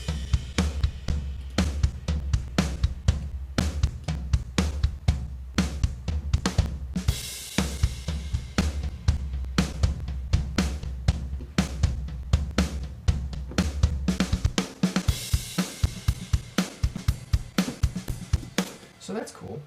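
Logic Pro X Drummer track playing a loud, complex drum pattern with dense kick and snare hits and crashing, washing cymbals, switching between two different grooves partway through; busy and steady, heard alone without talk.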